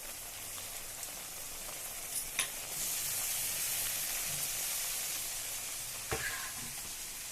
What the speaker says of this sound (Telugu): లైట్గా వేగిందండి ఉల్లిపాయలు. ఇప్పుడు నేను ములక్కాయను టమాటా వేస్తానండి.